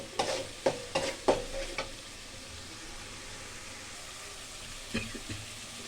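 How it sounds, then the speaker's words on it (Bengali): Onion, garlic, turmeric, chili powder, salt and spices saute in oil in a pan, with a steady soft sizzle under a few sharp spatula scrapes at the start and again near the end. "পেঁয়াজ, রসুন অল্প, একটু মশলা, হলুদ, মরিচের গুঁড়া, লবণ এগুলো দিয়ে তেল দিয়ে ভালো করে কষিয়ে নিলাম"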